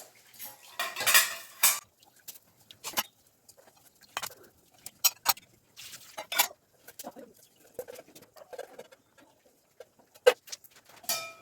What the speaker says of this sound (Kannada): ಈಗ ನೆನೆಸಿ ಎತ್ತಿಟ್ಕೊಂಡಿದ್ದ ಅಕ್ಕಿನ ಹಾಕ್ಕೊತಿದ್ದೀನಿ